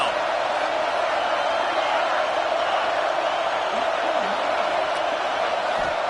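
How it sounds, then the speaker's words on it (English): A stadium crowd in a college football video game roars steadily on third down, a dense, continuous wash of cheering that stays loud and even throughout. "Decibels rising as the crowd gets behind this defense on 3rd down."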